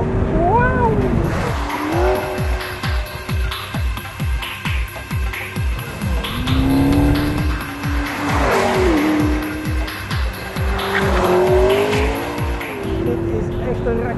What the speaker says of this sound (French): Racebeest met F1 technologie en dat voelen we maar al te goed op het circuit van Zolder